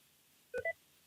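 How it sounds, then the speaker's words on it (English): QuickBooks accounting software confirms a save with a short, faint two-note electronic beep, heard alone against near silence. "you should get the beep of approval"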